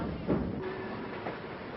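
Steam train running on rails during a vintage excursion, a steady rumbling rail noise throughout with a brief louder burst early on and a faint tonal whine in the middle, no talk.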